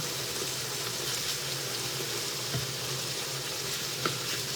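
A pot of water with jackfruit and fish bubbles and simmers steadily with a soft sizzling hiss and occasional small pops, close by and without talk.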